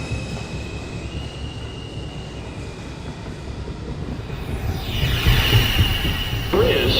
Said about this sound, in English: Downtown Express 2 train approaching the station